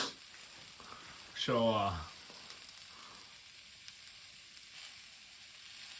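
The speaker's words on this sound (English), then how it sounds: "You can hear that sizzle sigh on there, that little frizzle fry." Onions fry quietly in a pan with a faint, steady sizzle, and someone speaks a single word over it. A short rising sweep near the start stands out briefly above the low crackle.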